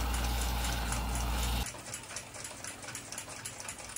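Metal lathe turning a small brass click rivet for an 1882 Ansonia clock movement, heard as a steady loud machine whir that drops abruptly partway through to a quieter ticking mechanical rattle, with no one speaking.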